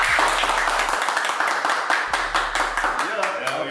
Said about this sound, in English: let's get a little clap